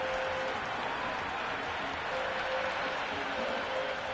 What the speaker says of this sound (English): Will you listen to that crowd?